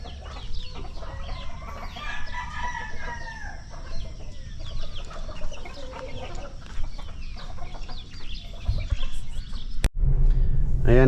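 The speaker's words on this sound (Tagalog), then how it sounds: "Papakain naman si Lolo Boy yung mga alaga niyang manok." Farmyard chickens cluck steadily as they are fed, with a rooster crowing among them, close and continuous outdoors, ending with a sharp knock and a louder rustle.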